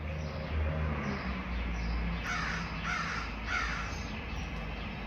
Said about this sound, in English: I've never had a crow in this tree.